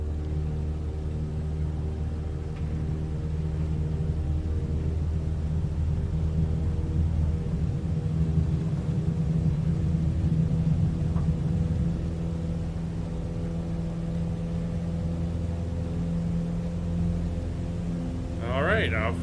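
A CubCrafters light aircraft powers up for takeoff from runway 35 at Llanbedr, its engine a steady, loud, droning hum with strong low harmonics that hold through the run, heard from inside the cabin.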